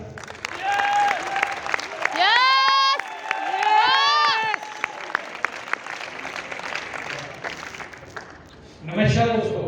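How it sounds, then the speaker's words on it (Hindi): A hall audience at a team achievers' gathering applauds loudly and steadily, with rising whoops and cheers over the clapping and a fresh burst of applause near the end. "जोरदार तालियां।"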